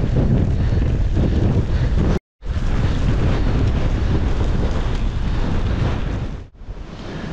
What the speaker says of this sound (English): into a massive headwind now.